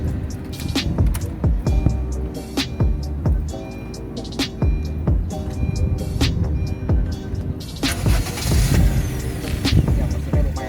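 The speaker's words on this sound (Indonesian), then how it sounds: "Sekarang kita nyalakan mobilnya." A 2020 Honda HR-V 1.5S engine starts, then settles into a steady, fairly quiet idle hum. It is heard up close and alone throughout.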